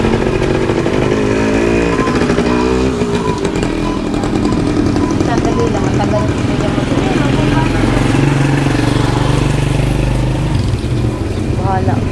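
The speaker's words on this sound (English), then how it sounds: "There's another rat bike." A rat bike motorcycle rattles past on a busy street in Angeles City, Philippines. The loud engine rises and falls over steady traffic noise while people talk nearby.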